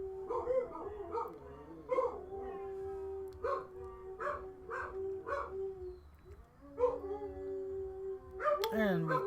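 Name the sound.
dogs howling out in the hall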